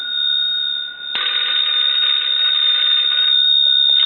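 An Automatic Electric 1A desk telephone's bell rings loudly and close, a sustained metallic clattering ring lasting a few seconds after a brief earlier ring, with no talking.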